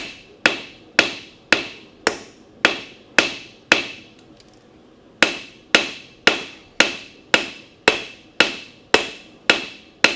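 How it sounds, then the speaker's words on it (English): A blacksmith works a knife bevel with the cross peen of a hammer, each blow ringing out sharp and metallic in a steady, even rhythm, with one brief pause before the strikes resume, close up and loud. "I'm just using the cross peen part of the hammer to stretch the bevel out in the front on this knife."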